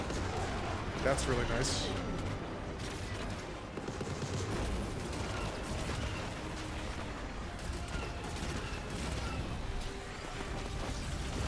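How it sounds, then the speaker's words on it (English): Airstrike explosions in a video game rumble and crash as a dense, continuous barrage, with a voice talking briefly over the noise. "I can just walk through my friend's airstrike"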